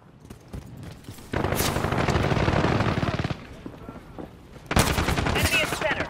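Video-game gunfire from Call of Duty: Modern Warfare in team deathmatch: two loud sustained automatic bursts of rapid shots, separated by a quieter gap of distant battle noise.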